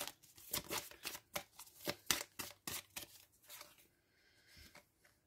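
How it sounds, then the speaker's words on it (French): A card drawn from a deck: a quick run of crisp paper flicks and riffles, close and fairly quiet, tapering off into near silence toward the end, with no voice. "Une dernière carte pour les balances."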